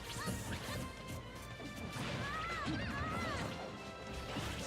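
Smash attack hit in a Super Smash Bros doubles match, heard as loud crashing impacts amid dense game effects, music and crowd noise throughout.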